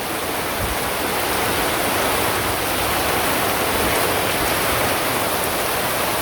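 Heavy rain in a village, a dense, unbroken wash of hiss pouring down steadily and loudly, with no voices.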